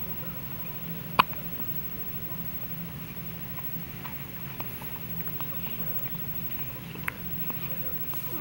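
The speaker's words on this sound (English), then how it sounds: "Their first hiccups." A baby hiccups in short sharp isolated bursts, two distinct ones spaced several seconds apart, close by against a quiet room with faint background noise.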